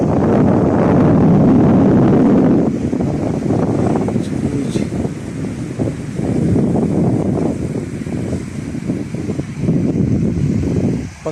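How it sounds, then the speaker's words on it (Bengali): Big monsoon sea waves surge against the shore in heavy, rumbling swells, loud and close, while gusty wind buffets the microphone over them. "এই যে বড় বড় ঢেউ আসছে পড়তেছে এখানে সমুদ্রের"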